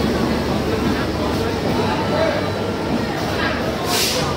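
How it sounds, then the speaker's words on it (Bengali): A train at a station platform rumbles steadily at moderate loudness, with people talking over it and a brief hiss near the end. "আইতাছে রেল, দেখছো?"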